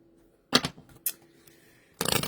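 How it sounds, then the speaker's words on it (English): A deck of tarot cards is shuffled in quick bursts of crisp riffling and snapping, with short pauses between handfuls, close and distinct in a quiet room. "A little shuffle real quick."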